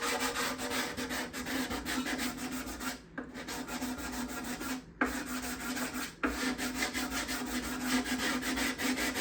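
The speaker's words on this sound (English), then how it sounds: "not tilt it when I'm sanding." Close, steady back-and-forth sanding strokes scrub along the binding on the back of a guitar, a soft rhythmic rasp broken by two brief pauses, with no one talking.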